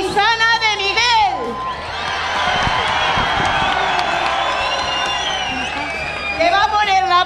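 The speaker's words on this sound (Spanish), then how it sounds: "Quiero que le deis un fuerte aplauso a Izana de Miguel" Crowd applause and cheering at a town festival proclamation in San Leonardo de Yagüe, loud clapping and whoops swelling in the middle, framed by an amplified speaker's voice at the start and end.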